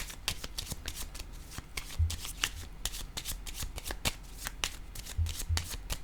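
Tarot cards are handled and shuffled with rapid papery riffles and flicks, up close and fairly loud. A few soft taps come as cards are laid down.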